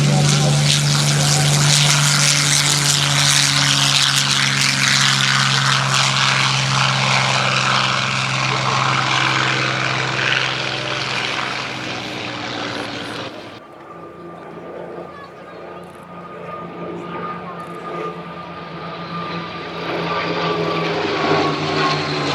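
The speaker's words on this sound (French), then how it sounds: "Si délibérément on vous fait écouter le bruit du moteur, c'est parce que c'est très rare" An original Messerschmitt Bf109 E4 aircraft engine roars loudly and steadily at the Ferté-Alais air meeting, then abruptly drops to a quieter, fainter drone partway through, with a voice talking over the sound.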